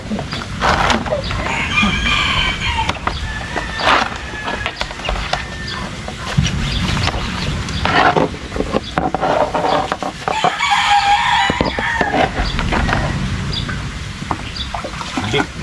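A rooster crows amid clucking chickens, the calls fairly close over a busy, noisy background with splashing and occasional voices speaking.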